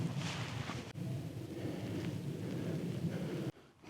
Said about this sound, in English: First couple of drops of rain.